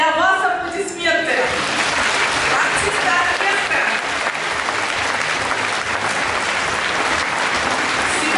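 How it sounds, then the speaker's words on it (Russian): Theatre audience in Ulyanovsk applauding after a staging of "One Thousand and One Nights", with dense, steady clapping filling the hall; a voice speaks briefly at the start before the loud applause carries on alone. "Для вас аплодисменты."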